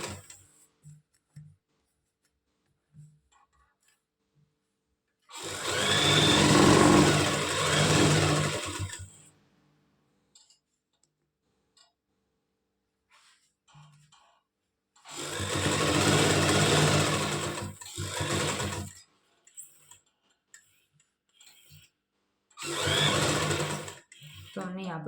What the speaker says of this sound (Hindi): तो हमने यहाँ पर कर लिया अपनी सिलाई को सिक्योर, डबल सिलाई करके।